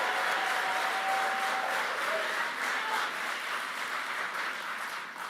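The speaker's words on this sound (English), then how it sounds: "I said only applaud once" Rally crowd applause at a JD Vance political event: a broad, continuous wash of many hands clapping, fairly distant and sustained, tapering slightly toward the end.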